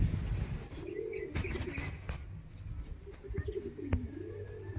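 Racing pigeons coo softly in repeated low rolling calls, with faint chirps and occasional wing flutters around them, close by and steady.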